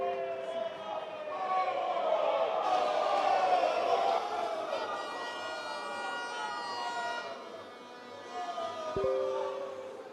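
Large outdoor crowd at a political party manifesto launch rally roaring and applauding in a sustained wash of cheers, with a long rising siren-like tone running through it and a sharp thump near the end.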